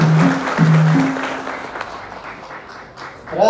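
An audience at a church gathering breaks into applause, loud at first, then gradually thinning out, while a voice is heard over the clapping at the start.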